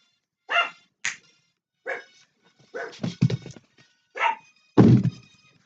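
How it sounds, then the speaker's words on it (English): A dog barks in a string of sharp, separate barks at an irregular pace, with a few thuds mixed in, close by, with no talk over them. "My dog's barking"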